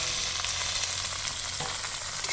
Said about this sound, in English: Now we'll be adding the fish